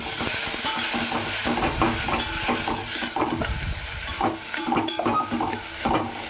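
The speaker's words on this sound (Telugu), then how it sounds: "ఒకసారి గరిటె పెట్టి తిప్పుకుందాం" Ladle stirring egg fried rice in a hot pan after coriander and cumin powder go in, a steady loud sizzle and hiss with repeated scraping and clinking strokes of the ladle throughout.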